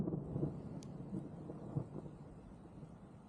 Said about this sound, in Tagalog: Ay, naririnig niyo ba ang mga kulog?